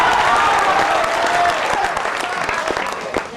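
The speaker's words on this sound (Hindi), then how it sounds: "सुनिए पंक्तियां अच्छे लगे तालियां बजाइएगा" An audience at a Hindi comic poetry recital claps loudly and continuously, a dense wash of applause that tapers slightly toward the end.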